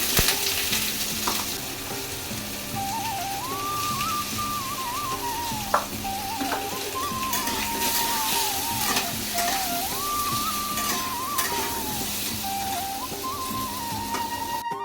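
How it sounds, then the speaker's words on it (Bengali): Potatoes sizzle steadily in hot oil in a home kitchen pan with salt and turmeric, a continuous close crackle with occasional stirring scrapes and a soft clink partway through. "নুন আর হলুদ দিয়ে কিন্তু আলুগুলো আমি ভালো করে একটু ভেজে নেব"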